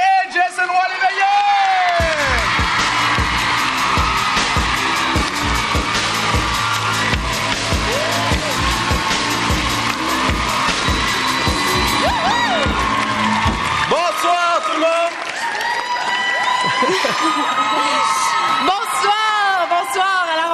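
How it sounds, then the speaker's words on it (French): Loud, sustained applause and whooping from a gala audience greeting performers Myriam Brûlé and Jason Roy Léveillé, a dense crowd roar with music underneath that fades after about fourteen seconds, leaving a host speaking. "Une bonne mêlée d'applaudissements pour Myriam Brûlé et Jason Roy Léveillé."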